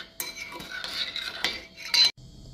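Utensils toss a Vietnamese sesbania flower salad in a bowl, giving close, steady scraping and clinking of cutlery against dishware that builds to a louder clatter before stopping abruptly.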